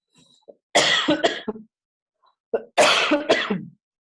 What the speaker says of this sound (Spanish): la tos no me deja